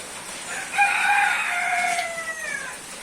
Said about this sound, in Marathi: आपल्या कोंबड्या बघा